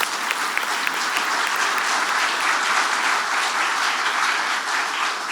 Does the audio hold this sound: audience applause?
yes